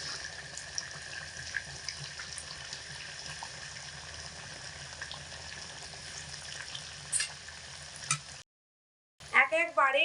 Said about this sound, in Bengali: আমি তেলের মধ্যে চারটে করে দিয়ে ভেজে নেব